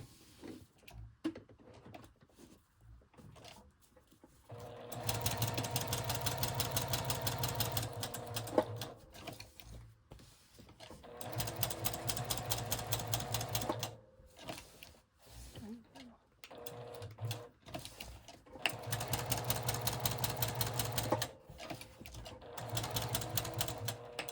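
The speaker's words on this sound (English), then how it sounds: "I will just try to stay close to the edge and kind of organically sew around the shape." A sewing machine stitches around a paper shape on a fabric folio in three long, steady running bursts. Pauses and quieter handling noise fall between the bursts.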